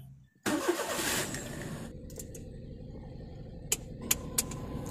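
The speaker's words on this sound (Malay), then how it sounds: "Kita start engine dan kita on aircon." A Perodua Viva car engine cranks briefly and catches, then settles into a steady idle with the air conditioning switched on, a few sharp faint clicks sounding over the hum.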